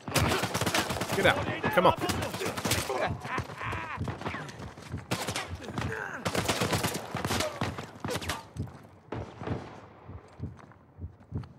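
Rapid bursts of gunfire from Uncharted: A Thief's End crack loud and close in repeated volleys, thinning out toward the end, with brief shouted speech mixed in.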